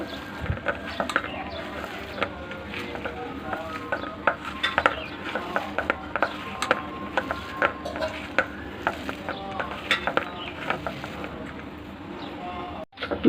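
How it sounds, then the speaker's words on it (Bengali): Steady scraping and stirring by hand in a bowl, with irregular soft clinks and rustles throughout, fairly close. "আমি এগুলোকে সব একসঙ্গে ভালো করে মেখে নেব"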